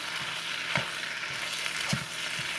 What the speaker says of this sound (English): I'm just going to saute this and just until my noodles are covered in my sauce.